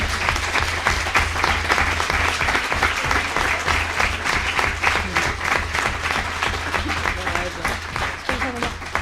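An audience at a conference on Alzheimer's and other dementias bursts into loud, sustained applause, dense rapid clapping from many hands continuing throughout, with a voice speaking faintly beneath it.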